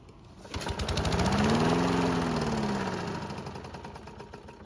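A Husqvarna lawn mower engine catches and runs briefly, its steady mid-pitched drone rising then fading as it winds down and stops, close and loud with no talking.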